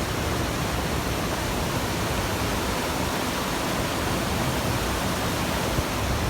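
The upper section of the Capivara waterfall in Chapada dos Veadeiros, Goiás, Brazil, roars as a steady, dense wash of falling water. It holds constant and loud for the whole stretch, with no voices over it.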